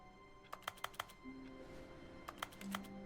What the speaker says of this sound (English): But I can click. It sounds like I'm typing at a keyboard.